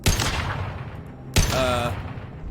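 Gunfire in Mass Effect 2 comes in two loud, close bursts of rapid shots. A metallic ringing tail follows the second burst.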